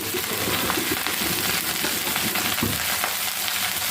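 Okra frying in hot ghee gives a dense, continuous sizzle with crackling spatter, close and loud throughout, with no voices over it.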